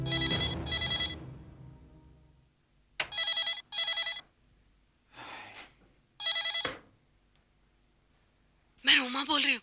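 A telephone rings in several loud, bright bursts separated by pauses, with a short stretch of speech between rings.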